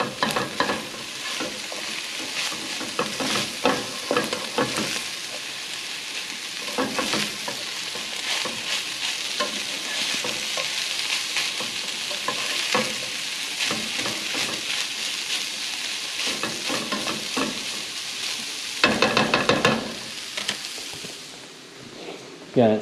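Rice cooked with bone broth is stir-fried in a pan, giving a steady sizzle with repeated scraping and stirring strokes over about twenty seconds, while a person talks intermittently.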